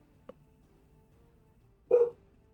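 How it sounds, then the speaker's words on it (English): A dog lets out one short, sharp bark indoors at moderate distance, preceded by a faint brief yip, in otherwise quiet surroundings. "Excuse my dogs."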